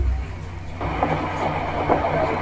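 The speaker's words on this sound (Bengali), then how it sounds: "এই ব্রিজের উপর দিয়ে এখন ট্রেনটি যাচ্ছে" A train on the Dhaka to Cox's Bazar route rumbles steadily across a bridge at close range, with a low heavy roar and faint rhythmic clatter of wheels on the track.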